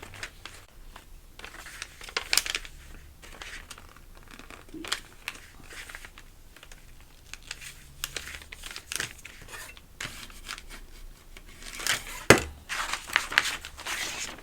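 Paper is creased and folded by hand to form a gift bag, giving quiet, intermittent crinkles, soft taps and sharper crackles from close by with pauses between the movements.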